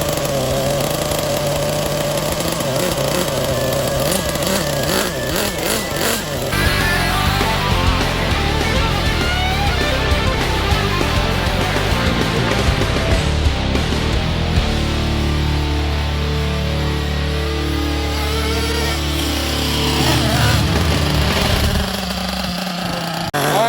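HPI K5.9 nitro engine fitted in a Losi LST RC truck, running loud and continuous with a high, buzzing whine that rises and falls in revs throughout, close by with no talking.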